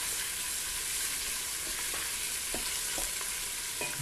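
Seafood soup ingredients fry in a pot with a steady, dense sizzle, broken by a few soft stirring knocks and scrapes, close and continuous with no talking.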